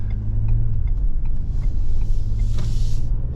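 A 2022 Ford Expedition XLT Max AWD pulling away under light throttle, its engine a steady low rumble with a faint rise in tone, heard from inside the cabin with no talking.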